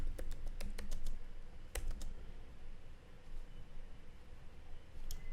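Python code being typed on a computer keyboard, with quick bursts of close key clicks in the first two seconds and a few stray taps later over a steady background hiss.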